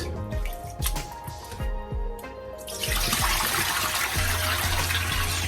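Lemon water for making sea moss gel drips and splashes in a kitchen, with a few distinct plops followed by a steady, louder pouring rush for the last few seconds.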